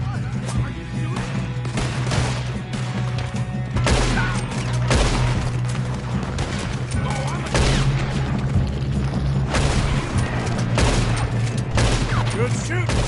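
A video game shootout in which loud gunshots crack one after another in irregular volleys over a rumbling background, with occasional voices mixed in.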